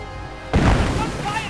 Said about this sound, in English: Mortar half-track is hitting up the trench line and the machine gun.